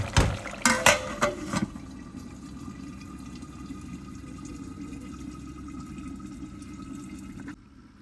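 Homemade tomato paste goes into a pan of spicy chicken curry and is stirred in, with a few close knocks and scrapes at the start followed by a steady low simmering hiss, no talking.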